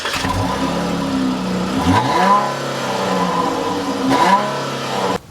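A 2014 Chrysler 300C AWD's V6 engine revs hard, pitch climbing through the gears with a shift in between, loud and close, then cutting off abruptly at the end.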